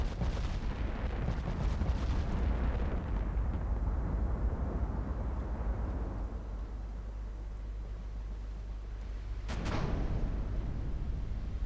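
Naval gunfire and shell hits in Ultimate Admiral Dreadnoughts, a continuous heavy rumble of distant booms with one sharper crack near the end.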